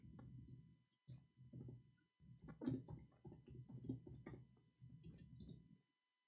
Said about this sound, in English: I will give you an example while I'm typing in English.